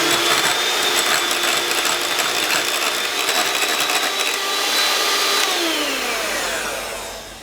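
An electric mixer blends two egg yolks with 75 grams of cream cheese, making a steady, loud motor whine with slight shifts in pitch that winds down near the end. No voices are heard.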